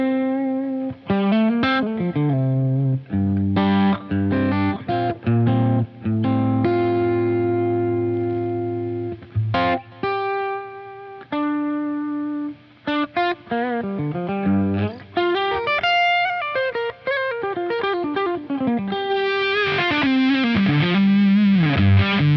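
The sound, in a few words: electric guitar through JHS Crimson fuzz pedal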